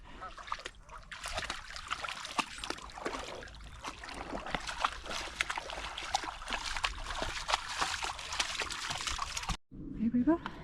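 A foot plunges into a shallow river while paddling near Crummock Water in the Lake District, making continuous fairly quiet splashing and trickling water before a brief cut.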